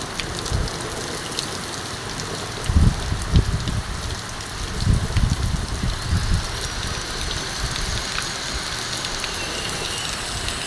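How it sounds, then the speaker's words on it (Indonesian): Heavy rain pours in a continuous wash of drops on surfaces, with a few louder low rumbling bursts partway through and no voices. "Deras sekali hujannya."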